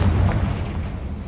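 Confringo blasting spell in the Hogwarts Legacy video game, a loud booming explosion with a heavy low-end thud that decays into a rumbling tail over about a second.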